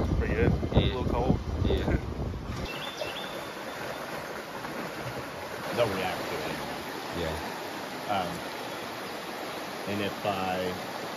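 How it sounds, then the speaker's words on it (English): Tumbling Creek, a mountain trout stream in the Clinch Mountains backcountry, rushes in a steady, moderately close wash, with people talking over it at the start and in short bursts later. "we're at the Tumbling Creek right here, back behind me"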